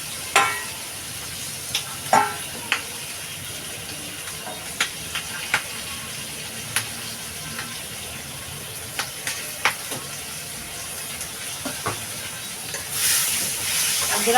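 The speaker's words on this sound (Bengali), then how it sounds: "আলুটা একটু ভেজে নেবো ভালো করে" Potatoes with slit green chillies fry in oil in a pan for a bitter gourd and potato curry, giving a steady sizzling hiss broken by scattered spatula scrapes and taps, with no voices.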